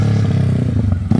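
An OHC 70mm motorcycle engine fitted in a Honda Fan runs loud and close, a steady rough idle with a rhythmic clattering pulse, then a sharp blip of revs at the very end.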